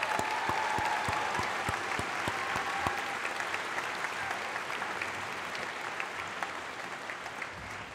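Applause from a graduation ceremony audience fills an indoor hall: a sustained, even roar of many clapping hands, slowly thinning toward the end, with a few sharp, separate claps early on standing out near the front.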